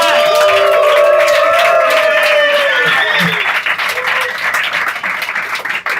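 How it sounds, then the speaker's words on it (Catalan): A live comedy show crowd applauds and cheers loudly, with whoops and shouted voices riding over dense clapping that stays strong, then thins and becomes more scattered near the end. "I un aplaudiment per la Lluna Gai, senyora de dretes."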